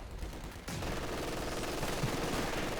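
Rapid automatic fire from an MG42 machine gun in Company of Heroes 2, a dense continuous burst starting abruptly and rattling on without pause amid battle noise.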